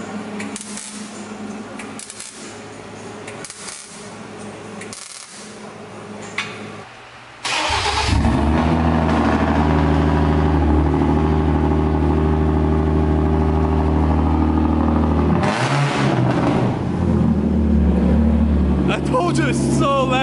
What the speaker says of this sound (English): Sounds like V8, right?